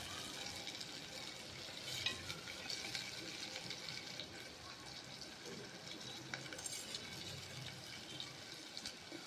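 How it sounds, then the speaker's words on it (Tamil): Two ripe tomatoes stirred into sautéing onions in a pan for fish curry, a soft continuous sizzle with faint scraping of the spoon, quiet and close, with no talk. "நல்லா பழுத்த தக்காளியாக 2 தக்காளி அதையும் போட்டு நல்லா நம்ம கிண்டிக்கலாம்."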